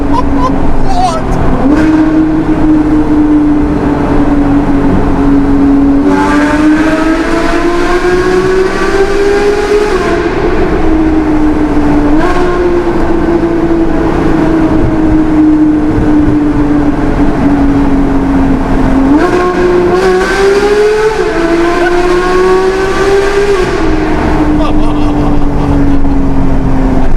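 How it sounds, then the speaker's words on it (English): A powerful Porsche engine revs and drones, pitch climbing and falling in long sweeps, with the roar swelling as it accelerates. "my first supercar sounds how a supercar should sound"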